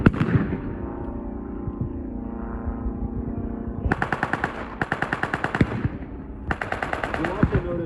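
Machine gun fire at a WWI trench reenactment of British versus Germans: rapid bursts of automatic fire crack out in several separate volleys, loud and close, over a steady background rumble.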